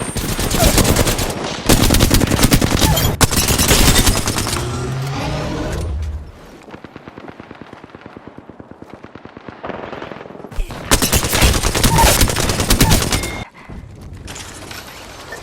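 Automatic and single gunshots crack out in long, dense bursts from a Apex Legends firefight, loud and close, with short lulls of quieter mechanical clatter between volleys.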